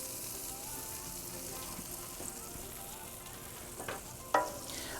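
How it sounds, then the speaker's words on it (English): A burger patty sizzling and spitting on a hot Pit Boss Charleston griddle, a steady close frying hiss with a few scrapes and a sharp clatter near the end. "let's get our burger on here"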